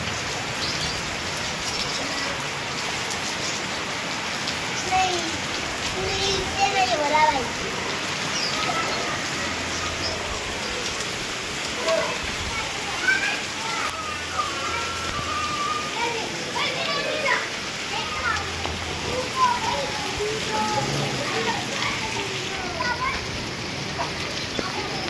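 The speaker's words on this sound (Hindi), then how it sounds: "देखो तेज बारिश हो गई है" Heavy rain pours steadily and splashes on surfaces while children's voices and play carry on through the downpour.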